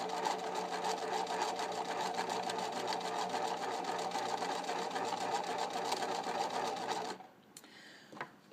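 A sewing machine runs steadily for about seven seconds, stitching a plain seam with a fast, even mechanical whirr and needle rattle, close and loud, then stops, leaving a few faint handling sounds.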